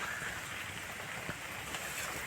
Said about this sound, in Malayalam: നല്ല മഴയത്ത്